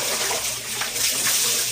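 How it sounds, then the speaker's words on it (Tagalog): Water is poured over a body during a bath, a loud close rush and splash that continues steadily for a moment. "Yung una, pangalawa, pangatlong buhos akong sobrang lamig"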